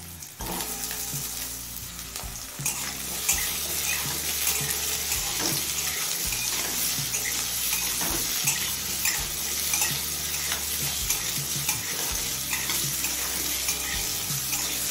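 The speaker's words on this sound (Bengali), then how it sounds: "এবার এই আলু গাজরটা কিছুক্ষণ ভেজে নেব।" Potatoes and carrots fry in hot oil with black cumin seeds in a pan for a mustard greens dish, a loud, steady sizzle broken by repeated stirring scrapes.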